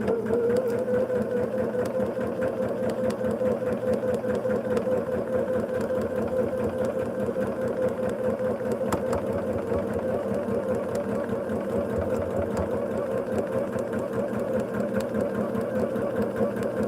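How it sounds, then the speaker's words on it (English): A sewing machine stitches a line across a quilt block, running in a continuous, steady mechanical whir with a fast rhythmic chatter, close and even for the whole stretch without pause. "Then I run a line of stitching between the solid line and the broken line."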